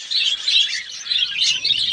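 Budgerigars at a bird farm, a dense flock chirping and twittering continuously, bright and close, with no talking.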